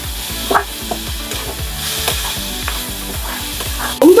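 Onions sauté in a hot pan for a Thanjavur-style peas rice, sizzling steadily close up while a utensil stirs with rhythmic scraping and clacking strokes, ending in a louder clatter.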